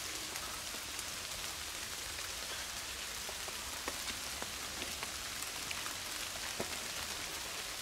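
Steady rain falls at night at Shogunzuka, a former battlefield site, hissing evenly with scattered close drips and drops for the whole stretch, with no voices.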